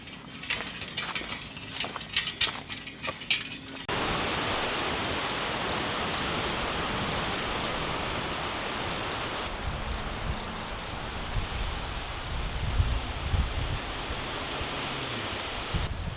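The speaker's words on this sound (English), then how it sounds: "Wow, the wind has come out of nowhere." Wind gusting outdoors in a summer garden, a broad steady roar that rumbles and buffets low down, heard alone with faint clicking handling noises at the start.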